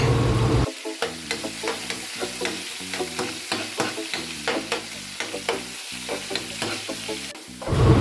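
Garlic and onion sautéing in a pan, a hissing sizzle broken by rhythmic stirring scrapes, repeated strokes in quick succession, close and fairly loud with no speech.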